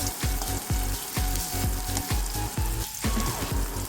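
Steady loud sizzling of shallots frying in hot coconut oil, with rhythmic scraping strokes about twice a second, close up and without talk.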